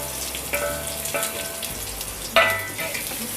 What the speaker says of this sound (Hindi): प्याज को हमें गोल्डन ब्राउन होने तक फ्राई करना है